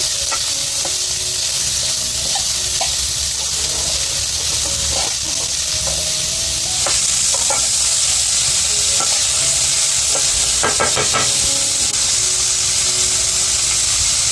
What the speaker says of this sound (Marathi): आता कांदा टाकून घेते.